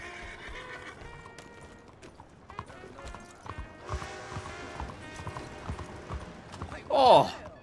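Clip-clopping horse hooves in Red Dead Redemption 2 plod along steadily beside game music, ending in a loud whinny near the end.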